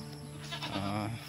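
A goat bleats in a wavering, nasal cry that rises in the middle, heard close against steady background noise.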